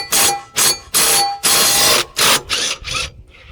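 A power tool, likely an impact driver, removes the blade bolt from an old lawnmower in loud close bursts: about seven rapid hammering pulses separated by short pauses, with no talking.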